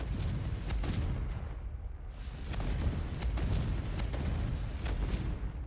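Blasting-curse explosions in the Hogwarts Legacy video game, a dense, continuous run of booming blasts and crackling bursts that hold loud and steady throughout, with no speech.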